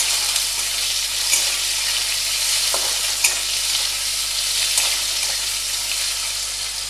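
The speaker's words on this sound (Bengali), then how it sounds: "আমি এবার দুটো টমেটো নিয়েছি, এটা একটু তেলে ছেড়ে দেবো" Two tomatoes frying in oil for Bengali masoor dal, a continuous bright sizzle broken by a few scraping stirs of the spoon against the pan, close and fairly loud.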